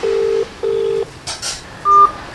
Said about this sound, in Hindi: फोन लगा रहा था कि पहुंची कि नहीं पहुंची